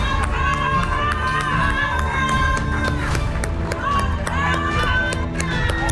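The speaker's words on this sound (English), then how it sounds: "Huge round of applause for you." Audience at a budget contest grand final applauding and cheering a winner, loud sustained crowd noise with clapping and shouts, and voices speaking over it.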